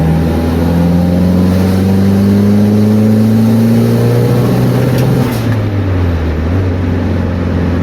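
An abandoned drift car's engine droning and climbing under load and boost, loud and close from inside the cabin, the pitch rising steadily then dipping briefly near the end, with no talking.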